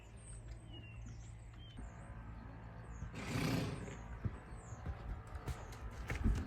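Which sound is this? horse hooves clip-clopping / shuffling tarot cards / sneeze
horse hooves clip-clopping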